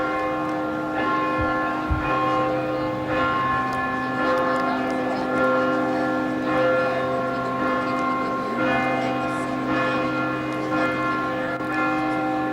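Large bells of Harvard's Memorial Church ring together in a sustained, layered peal at a commencement, with rich overlapping tones, and faint crowd noise underneath.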